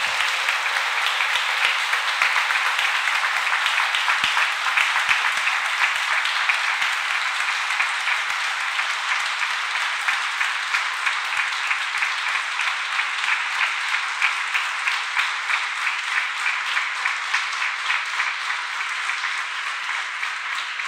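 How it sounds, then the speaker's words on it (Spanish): A church audience at a talk on being Christian today claps in sustained, loud, dense applause offered to Jesus Christ, holding steady for about twenty seconds with no speech over it. "este aplauso yo se lo he dedicado a Jesucristo y le damos todavía otro más grande"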